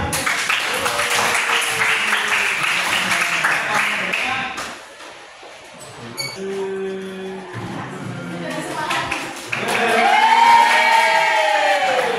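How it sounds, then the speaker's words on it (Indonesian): An audience in a university teaching-practice classroom session claps. Scattered applause and cheering rise around voices and swell into a louder burst near the end. "kasih tepuk tangan"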